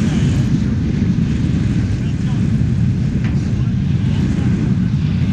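Strong wind buffets the microphone high up on a metal structure shaped like a Vostok-1 launch rocket, where workers are painting. It makes a loud, constant low roar and rumble throughout.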